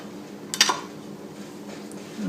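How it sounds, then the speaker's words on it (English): Metal lids set onto glass jars of pickled beets in a home kitchen, a brief cluster of light clinks and taps close by, then quiet. "And now let's put our lids on"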